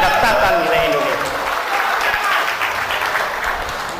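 Loud, sustained audience applause at a religious lecture in Indonesia fills the whole stretch as a dense wash of clapping, with a few voices mixed in and no clear pauses.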